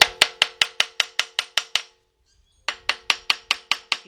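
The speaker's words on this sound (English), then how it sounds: "sometimes you can take a hammer" A hammer strikes an engine cap on a 1977 Buick LeSabre 350 V8, alternating side to side: about ten sharp, evenly spaced metallic knocks, a short pause, then eight more, close and clear.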